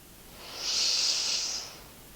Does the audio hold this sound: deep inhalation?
yes